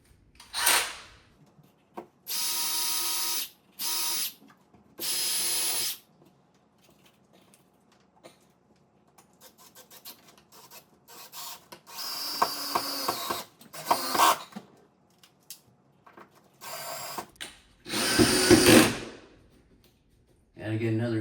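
A cordless power drill whirs in several short bursts while screws are driven to fix the top edge of a MAAX Cyrene corner shower kit, with clicks, handling noises and a little talk between the runs.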